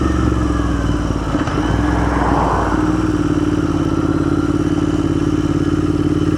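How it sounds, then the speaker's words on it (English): A motorcycle ridden along Vermont's Route 14 idles and rolls with a steady mid-pitched engine hum and clatter, a brief throttle swell in the middle, close and continuous without speech. "Okay, I need to park my motorcycle."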